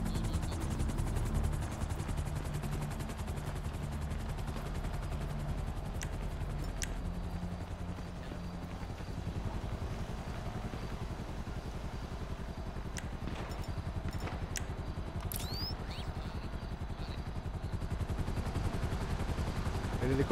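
A helicopter in the video game GTA 5 Online, a continuous dense rotor chop throughout with scattered sharp gunfire cracks and clatter from a battle mixed in.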